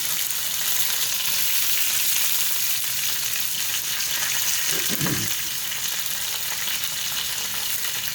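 Dried chillies, curry leaves and onions sizzle steadily in hot oil for a tadka, a loud continuous frying hiss with a brief low stirring scrape midway and no speech.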